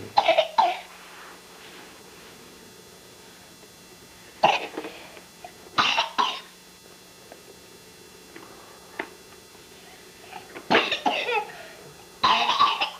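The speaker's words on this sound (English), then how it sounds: "Man, you got a cough this morning." A person coughs repeatedly in separate bursts, some single and some in quick pairs, close by with quiet gaps between.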